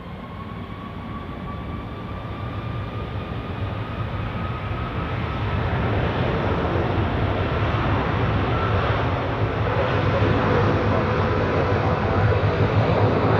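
Airplane taking off from runway 28 at Zurich Airport, a distant jet roar steadily swelling into a loud, broad rumble as the aircraft accelerates, with a faint engine whine early on.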